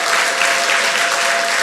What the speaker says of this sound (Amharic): መጽሐፍ ቅዱሳችሁን ቁጭ አርጉና አጨብጭቡ።